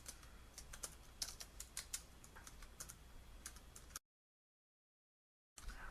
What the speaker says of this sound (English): I'm going to type p underscore the target